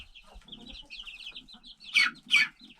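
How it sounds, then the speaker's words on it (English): Silkie chickens from a recent backyard hatch cluck softly and steadily nearby, broken by two sharper, louder squawks near the end, with no talking. "There's one of the silkies"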